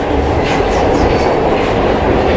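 Glasgow Subway train running with a steady, loud rumble and rattle of wheels on track, continuous throughout with no talk.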